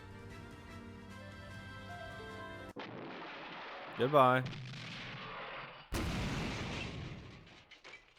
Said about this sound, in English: In C-22's storehouse streets, explosions went off one after another, shooting out fire and smoke.